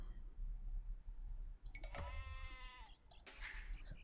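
A sheep bleats once in the Age of Empires strategy game, a short wavering cry standing out against game ambience, with a few interface clicks before and after.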